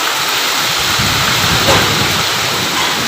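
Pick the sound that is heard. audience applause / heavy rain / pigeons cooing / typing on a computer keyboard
heavy rain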